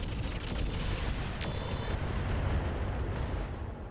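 Heavy barrage fire in the mech game RogueTech, a dense, continuous roar of booming impacts and explosions that stays loud throughout, with no talking.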